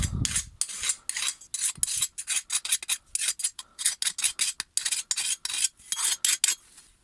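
A hand file rasps over the freshly sharpened edge of a Hyundai HYM480SPR lawn mower blade, cleaning off burrs in a quick, steady run of short, close, loud strokes with brief gaps between them.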